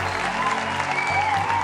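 An audience claps and cheers for a performer at a live music event, a short, dense wash of applause with tonal music or a voice sustaining beneath it.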